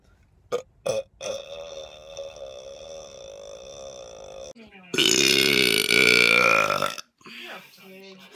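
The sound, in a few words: loud burping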